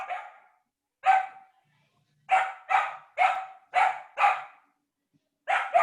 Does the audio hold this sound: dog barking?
yes